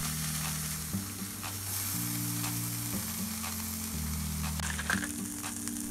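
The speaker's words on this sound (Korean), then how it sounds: "출발 전 휴지통 부속으로 만든 미니 삼겹살 그릴입니다" Pork belly sizzles steadily on a small homemade grill built from stainless trash-can parts, a continuous close frying crackle with scattered pops; a low steady musical tone runs beneath it throughout.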